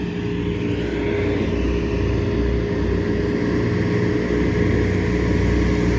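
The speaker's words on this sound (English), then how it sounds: "Sorry about the noise. Right next to a crossroad." Road traffic at a crossroad: a loud, continuous low rumble and roar of passing vehicles, steady throughout with no clear gaps and no talking.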